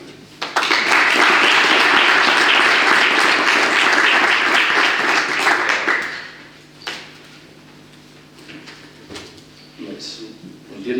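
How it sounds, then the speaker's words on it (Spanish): An audience claps after a lecture, a loud dense burst of applause lasting about six seconds before fading into scattered room noise and brief talking. "De momento, un aplauso."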